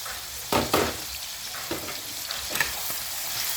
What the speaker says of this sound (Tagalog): I-brown muna natin to. Ito, medyo brown na yung garlic